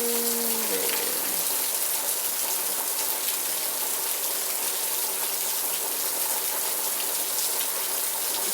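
Steady rain pours outside, a dense even hiss of drops on surfaces, broken only by a brief voice at the very start.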